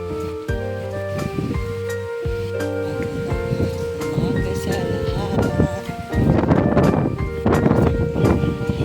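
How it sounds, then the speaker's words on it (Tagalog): Strong wind on a windy morning walk to school, a steady roaring rush across the microphone with a tonal hum running underneath, loud and continuous, rising toward the end. "Strong wind."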